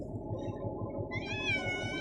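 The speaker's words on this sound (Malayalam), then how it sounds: "അടിപൊളി പൂച്ച" A cat gives one drawn-out, rising meow close by, over a low rhythmic background rumble, with no talk.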